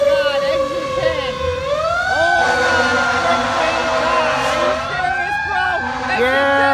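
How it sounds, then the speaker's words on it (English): A New Haven, Connecticut fire department engine, Engine 10, wails its siren while responding to a call, the tone sweeping up and down steadily and loudly for several seconds with voices faintly underneath. "Yo, engine 10, New Haven fire responding."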